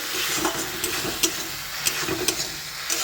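Spice masala for a homestyle egg curry sizzles and fries steadily in a pan, with a few sharp stirring scrapes and pops over the continuous hiss.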